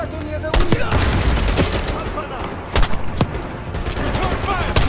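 Call of Duty: Black Ops 6 firefight with loud, close bursts of automatic gunfire and sharp single shots over a dense combat din, with voices shouting among the shots.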